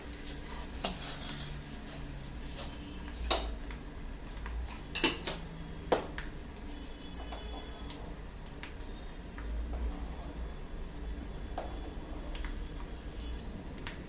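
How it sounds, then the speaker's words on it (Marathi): A spoon scrapes and taps in a pan of tempering with fried coconut and roasted peanuts, with scattered metallic clinks and knocks over a low, quiet background. "फोडणी मी छान हलवून घेते।"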